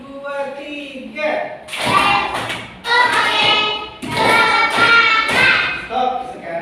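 Schoolchildren in a classroom clap in a counted one-two-three pattern, loud clustered hand-clap bursts repeating several times alongside a talking voice.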